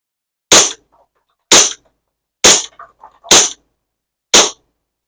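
A SAR9 gas blowback airsoft pistol fires five sharp, loud cracks spaced about a second apart, each a short snappy report with the slide's clack, close by and otherwise quiet.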